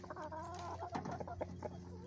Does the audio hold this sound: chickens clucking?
yes